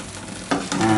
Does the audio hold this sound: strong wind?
no